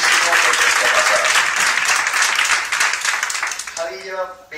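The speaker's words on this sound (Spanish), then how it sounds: "un aplauso propio para él" A press conference audience claps steadily and loudly for several seconds, then the applause tapers off and a voice begins speaking near the end.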